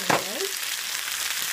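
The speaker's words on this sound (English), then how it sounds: "And just kind of stir that up and let that fry up a little bit for about 2 minutes" Garlic and ground ginger stir-fried in a hot pan, a brief scrape of stirring at the start, then a steady, close, even frying sizzle running on alone without any talk.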